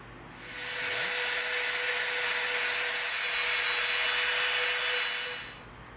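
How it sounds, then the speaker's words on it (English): A Dremel rotary tool whines at a steady high pitch for several seconds as it sands and softens the edges of a piece of EVA foam, starting and stopping cleanly. "we are going to soften the edges of this up with our Dremel."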